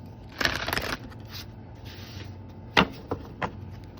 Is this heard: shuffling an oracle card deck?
yes